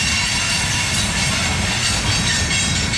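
A Norfolk Southern freight train rolls past near Alliance with a locomotive at the rear, making a loud, steady rumble of wagons with hissing, clattering wheel noise throughout.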